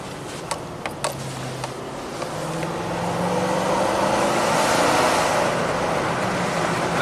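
Nissan Titan pickup engine pulling under throttle with a knock sensor fault, a low drone rising in pitch and swelling louder after a few faint ticks, steady and close.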